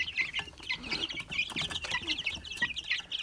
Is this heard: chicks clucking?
yes